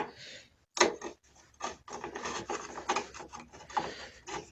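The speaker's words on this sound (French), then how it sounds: "j'ai juste besoin de la douille et de la rallonge pour défaire le reste des vis." Car radiator screws on a Renault Mégane being undone with a socket and extension, giving close, dry grinding and rasping turns with short pauses between bursts, no voices.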